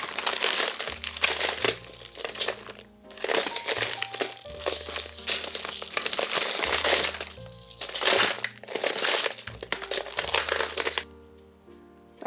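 A large stash of beads is stirred and sifted by hand, giving a continuous close rattle of tiny clicks and clinks with brief pauses, over a low steady musical backing.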